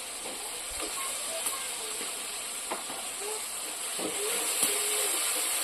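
A paste of mustard, poppy seed and green chili fries with tomato in a pan, giving a steady soft hiss with a few faint pops and clinks over it.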